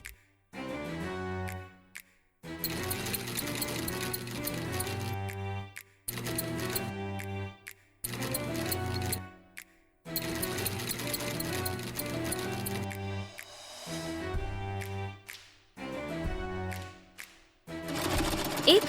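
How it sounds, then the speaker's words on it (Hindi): A sewing machine runs in repeated bursts of steady, mechanical stitching, each lasting a couple of seconds and separated by short pauses, loud and close with no speech. "सिलाई मशीन आ गई है।"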